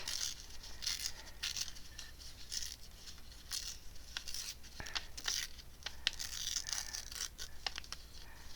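Paper torn by hand for a glued collage book page, a long series of crisp ripping and crinkling bursts, close and fairly loud with no talking.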